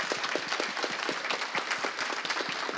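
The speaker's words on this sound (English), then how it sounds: "And a round of applause for our panelists." Steady applause from a conference audience thanking the panelists of an open source sustainability panel, dense overlapping claps at an even level throughout with no voices over it.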